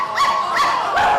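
Dogs give three quick high-pitched barks and yips in a row, loud and close, each one short and sharp with no talk.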